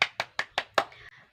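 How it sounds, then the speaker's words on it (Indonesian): Five sharp hand claps in a steady, even rhythm, close and loud, each with a short ringing tail; a fainter trailing sound follows after the last clap, no talk over them. "tepuk tangan dulu untuk kita semua"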